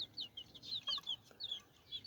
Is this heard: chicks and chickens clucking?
yes